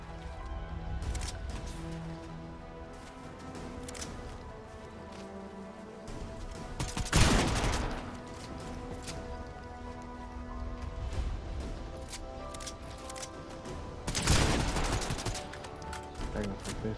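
Gunfire in a Fortnite ranked match, with two loud bursts of shots about seven seconds apart rising over a steady bed of game music and ambient effects.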